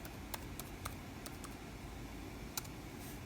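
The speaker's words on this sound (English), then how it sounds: "let's type in another one." Someone types a search on a computer keyboard, with a handful of sharp, scattered key clicks over a steady background hiss.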